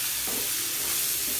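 Dry coconut with its skin roasts in a pan and is stirred, giving a steady, soft sizzling hiss broken by a couple of brief scraping stirs.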